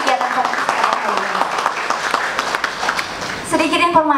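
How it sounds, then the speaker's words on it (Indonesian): Audience at a leadership talk-show podcast event applauds, a dense wash of clapping throughout, with a voice speaking over it near the end. "Boleh tepuk tangan yang meriah untuk kegiatan podcast kali ini."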